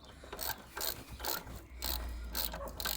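A ratchet clicks in fast, repeated bursts close up while undoing the brake caliper bolts on a wheel hub, with short pauses between runs of pawl clicks and no talk.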